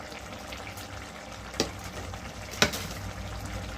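Sugar being stirred into simmering jhinge aloo posto, a Bengali ridge gourd and potato curry in poppy seed paste, gives a steady low bubbling sizzle with two sharp spoon clinks against the pan.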